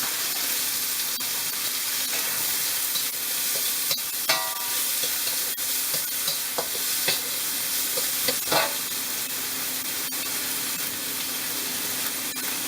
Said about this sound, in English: And now I'll put in my onions